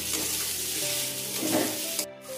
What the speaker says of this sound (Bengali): লাল লাল করে পেঁয়াজটাকে ভেজে নিয়ে